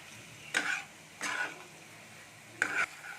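Potatoes and pointed gourd being stir-fried with spices in a pan, heard as three short scraping stirs with soft sizzle between, close and moderately quiet, no talking.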